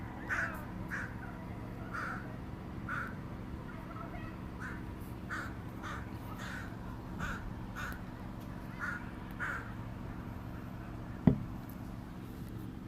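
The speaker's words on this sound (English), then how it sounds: "Guess the crow has an opinion." A crow caws repeatedly at a moderate distance, with harsh calls spaced about a second apart over a low background hum, followed by one sharp knock near the end.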